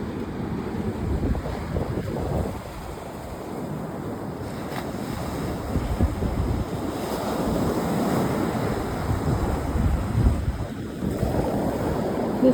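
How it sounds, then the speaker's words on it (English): Atlantic Ocean surf washing onto a beach, a continuous roar of breaking waves with heavy wind buffeting the microphone, loud and close throughout. "This is Gage's first time seeing the Atlantic Ocean and being on a beach."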